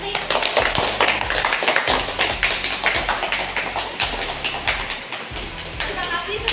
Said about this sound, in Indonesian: Kita berikan tepuk tangan kepada Ahmad Bakri